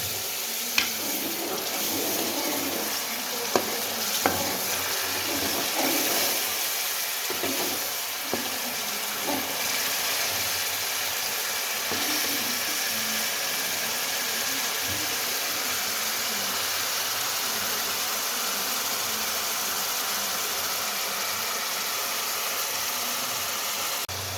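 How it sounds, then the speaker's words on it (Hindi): Chopped tomato and browned onions frying in a pan for paya curry, a steady, even sizzle lasting throughout, with a few sharp clicks of stirring near the start and no talk. "दो से 3 मिनट हो चुके हैं टमाटर के पेस्ट को भूनते हुए"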